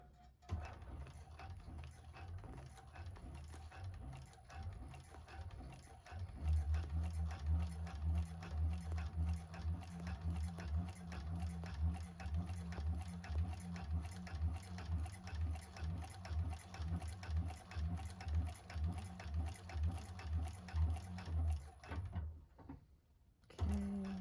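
A 1341 cylinder arm industrial sewing machine stitching a bag runs in a steady rapid rhythmic whir for about fifteen seconds, starting up after soft handling noises and stopping abruptly near the end.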